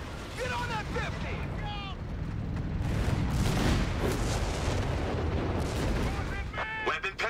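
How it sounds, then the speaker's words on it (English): Heavy machine gun fire rattles through a Company of Heroes 3 battle, a loud, continuous dense roar of shots and impacts, with voices calling out at the start and end. "Taking heavy MG fire!"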